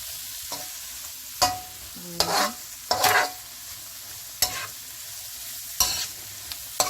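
Coconut curry shrimp and rice being stirred and fried Jamaican style, with a soft background sizzle broken by repeated sharp spoon scrapes and clatters against the pot every second or so.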